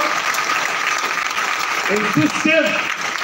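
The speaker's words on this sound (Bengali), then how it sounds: "জোরে তালি হবে আমাদের সিস্টেমের জন্য" A crowd at a training event in Cox's Bazar claps loudly and steadily throughout, with a few voices calling out briefly over the applause.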